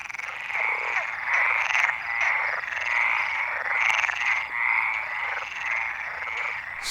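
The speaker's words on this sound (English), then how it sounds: "southern ones use a single vocal sac placed under the mouth to emit their song" Stripeless tree frogs and Iberian water frogs call from a shared pond, a dense chorus of rapid, pulsing croaks repeating in close succession, loud and near with no other sound.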